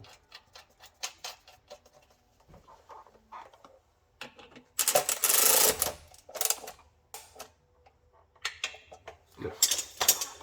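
A clamp is tightened on the air intake of a 1985 Chevy C10 with an LS engine swap, giving irregular close ratcheting clicks and mechanical rattles, with a loud burst of clatter midway.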